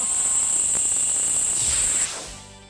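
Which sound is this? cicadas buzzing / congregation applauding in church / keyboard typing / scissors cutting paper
cicadas buzzing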